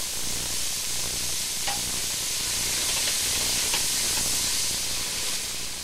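Onion, red and green pepper trimmings and minced garlic cooking in a pan for a sauce, giving an even, loud hissing sizzle throughout with a few faint clicks, with no voices.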